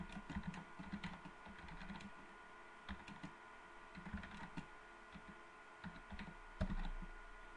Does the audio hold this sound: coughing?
no